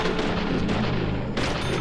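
Gunfire in the video game Deadly Premonition bursts loud and close as booming shots with rumbling reverberation that fills the moment, followed by another sharp blast near the end.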